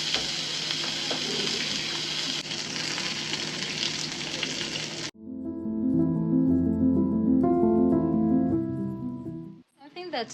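Two eggs fry in cooking oil in a pan, a loud steady sizzle for about five seconds, then the sizzle gives way to music and singing.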